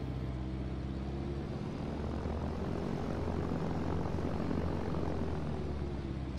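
Propeller airplane engine in a flight simulator video game, a steady droning hum with low harmonic tones holding evenly throughout, fairly loud and alone with no talk.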